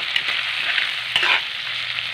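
Shrimp being stirred while frying in butter with assorted seafood, giving a steady close sizzle with a brief scraping stir partway through, no voices.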